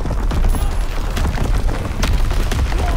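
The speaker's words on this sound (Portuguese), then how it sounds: "Meu Deus, tá explodindo tudo, caraca" Booming explosions in the World War II shooter Call of Duty WW2, a dense continuous rumble of blasts and bursts filling the scene with no speech.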